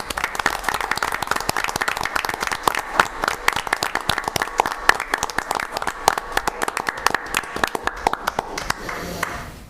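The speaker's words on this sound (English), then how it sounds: "and certainly a round of applause." Applause at a city council meeting in St. Clair, a small group clapping with distinct individual hand strikes, moderately close and sustained for several seconds before trailing off at the end.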